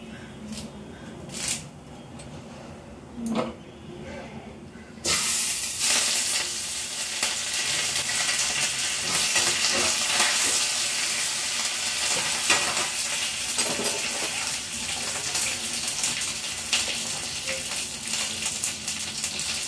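Mustard seeds and curry leaves hit hot oil in a frying pan after a few faint clinks, setting off a loud, continuous crackling sizzle with scattered pops that carries on for the rest of the stretch.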